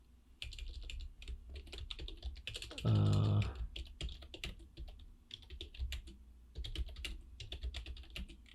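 Quick, steady keystrokes on a computer keyboard as an email subject line is typed, continuing through the clip with one brief, louder burst of sound partway in and no speech.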